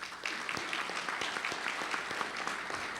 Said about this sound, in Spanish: le recibimos con un fuerte y caluroso aplauso